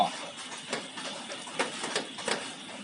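A screwdriver turns to open a plug on a Hitachi water pump with a leak, giving a close series of small scraping clicks and ratcheting ticks in an irregular rhythm, with no speech.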